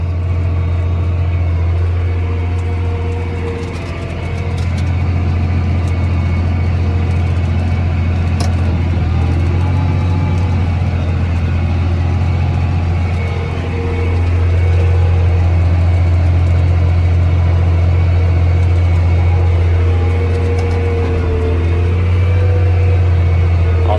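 A farm tractor engine runs loud and steady with four-wheel drive engaged during soybean planting, a deep continuous drone that dips slightly at times and never breaks.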